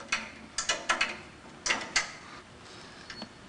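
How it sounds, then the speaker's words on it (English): A 9/16 wrench working the retaining bolts on a machine's front bearing gives a run of sharp metallic clicks and ratcheting ticks, some grouped in close pairs, with short pauses between bursts and no talk. "Need a 9/16 wrench up here on the front bearing."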